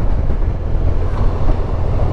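Continuous loud engine rumble and wind roar from an Avenger motorcycle on a ride along mountain and coastal roads of Crete, steady throughout with no talk.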